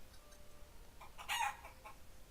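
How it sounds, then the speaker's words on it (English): A hen clucks in a video game, a single short burst of clucking that rises above a quiet background hum. "Here's a hen right here."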